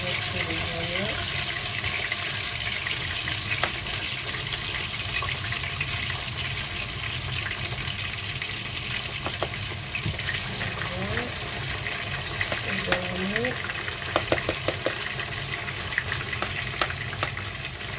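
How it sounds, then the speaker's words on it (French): Onions fry in a pan for poulet yassa, a quiet, steady sizzling hiss that runs continuously, with faint clinks and brief background sounds scattered on top. "On va mettre les oignons."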